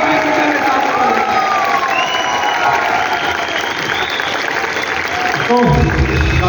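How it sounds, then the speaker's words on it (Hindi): A large audience claps steadily and densely at a business presentation event in India, loud and sustained throughout, with scattered cheers and a voice rising near the end. "एक बार जोर तालियां दीजिए।"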